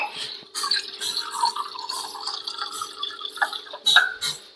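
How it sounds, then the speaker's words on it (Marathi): Water from a glass poured into a pot of flour for modak dough, a steady close trickle and splashing with brief louder bursts throughout. "अजून थोडस मी अर्धा ग्लास पाणी टाकणार आहे"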